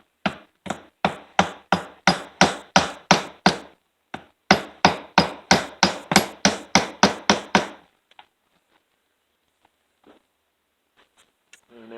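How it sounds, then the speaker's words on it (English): A rapid series of sharp, solid strikes from a plastic dead blow hammer during Stihl MS461 chainsaw tank housing assembly, about twenty evenly paced blows with a brief pause, then near silence. "Plastic dead blow hammer."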